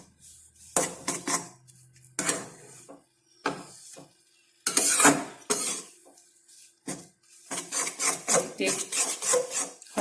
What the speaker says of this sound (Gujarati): હલાવતા રહીશું એટલે આપણો લોટ નીચે ચોટે નહીં